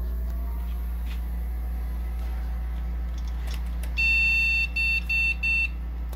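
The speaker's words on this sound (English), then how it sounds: "we got some beeps" An HP Pavilion 304w desktop PC from 2002 with an Athlon XP, powering on and giving a series of short electronic beeps in a quick rhythm over a low steady hum of the running machine.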